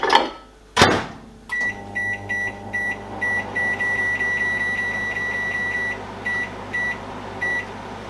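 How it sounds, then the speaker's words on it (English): A microwave oven runs while cooking blackberry jam, starting with a door thump and button beeps, then a steady low hum with a faint whirr through to the end, no voices present. "So 10 minutes in the microwave."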